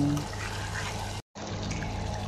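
A little water is poured into a pot of pork adobo with soy sauce and juice, a steady close trickle and splash briefly interrupted by a short gap, then continuing.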